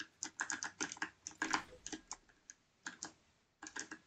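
Rapid, uneven clicking of computer keys being typed, close and fairly quiet, in bursts with short pauses.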